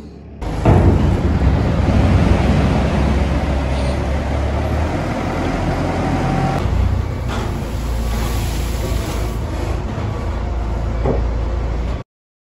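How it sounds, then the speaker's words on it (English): A forklift working in a farm shed while trailers are loaded, a loud continuous engine drone with rumbling and clanking that holds steady, then shifts in character partway through and cuts off abruptly. "just now we're just using this forklift, get these two loaded and clean up the shed"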